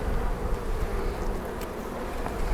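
Honey bees swarm around an opened hive, their dense, steady buzzing close and continuous with no voices.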